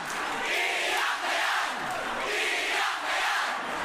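A rap battle crowd shouts and roars together in continuous loud waves, a dense wall of voices rising and falling in rhythmic chants.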